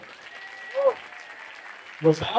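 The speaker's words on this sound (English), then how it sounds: "Please give a round of applause to the entire team that gets these gardens ready." An audience claps for a garden team at a perennial production panel event. The steady applause stays under a speaking voice and fades as the talk resumes.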